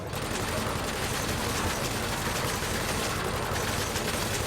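Ship weapons in Elite: Dangerous fire in a continuous loud, dense barrage of rapid bursts and crackling noise that runs steadily throughout, with no talk.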